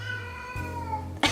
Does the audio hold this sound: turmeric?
no